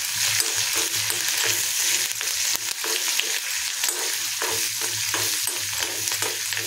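Fresh coriander fries in a pan with steady, close sizzling and the rhythmic scrape of stirring throughout, with no voices.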